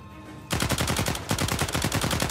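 Rapid automatic gunfire from a video game's weapons, loud and close, a quiet lead-in giving way to a sustained string of evenly spaced shots with one brief gap.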